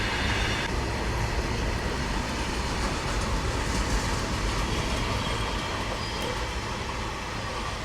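A freight train running alongside a moving Amrit Bharat Express, heard as a steady, loud rumble of wheels and wagons on the rails with faint rhythmic clatter throughout and no voices.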